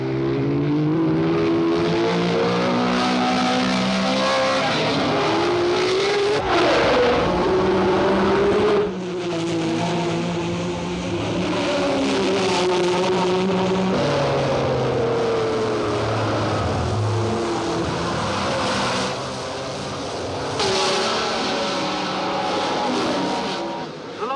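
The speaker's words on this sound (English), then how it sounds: "At the tobacconist, it's Sarti's red Ferrari ahead of Stoddard's green BRM number 12" Loud, continuous roar of 1960s Formula One race cars, a red Ferrari and green BRMs, racing past with shifting engine pitch and sustained, dense mechanical drone throughout, no voices.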